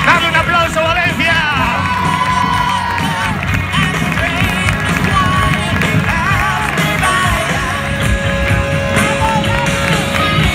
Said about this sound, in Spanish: Dame un aplauso, Valencia.